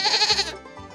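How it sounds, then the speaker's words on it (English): A single short, quavering goat bleat sounds close and fairly loud, fading into a lower, softer tail within about a second. "G-O-A-T. Goat."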